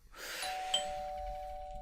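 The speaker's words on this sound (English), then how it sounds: "the doorbell rings, pulling me out of my writing" A doorbell chimes once in a video game, ringing out clearly with a bright ding tone that lingers and fades over a couple of seconds.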